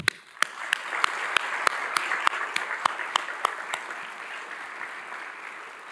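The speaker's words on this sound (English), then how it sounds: "can we please give a huge round of applause to Congressman Tim Burchett and our U.S. Senators" An audience at a county mayor's budget address gives a thin, scattered round of applause: a dozen or so sharp, distinct claps ring out over a soft bed of clapping that thins and fades away.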